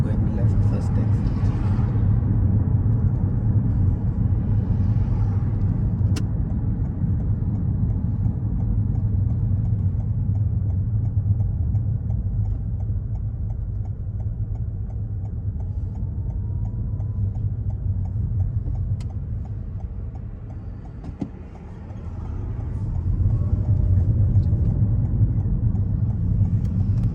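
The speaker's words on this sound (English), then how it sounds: "he is continuously doing harsh acceleration at exit of every junction" A car on a driving test route accelerates out of a roundabout exit, its engine giving a steady mid-pitched drone and road rumble that dips briefly and then surges back up, heard from inside the car.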